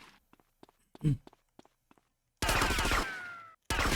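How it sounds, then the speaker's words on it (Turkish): Gunfire in the video game GTA Vice City Definitive Edition: sparse faint clicks and footsteps, then two loud sustained bursts of automatic fire near the end, separated by a brief gap. "nereden vuruyor?"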